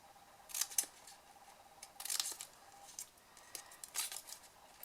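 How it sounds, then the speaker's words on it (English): Small paper snips cut card corners into wedges, with three quick crunchy bursts of snipping spaced a second or so apart and close by, with quiet pauses between. "Paper snips just to cut these, just because they're a bit smaller and fiddlier."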